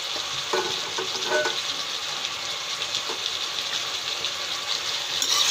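Mixed vegetables with potatoes, brinjal and field beans sizzle steadily in a pan, with scattered scraping and stirring clicks from a spoon, continuous and fairly close throughout.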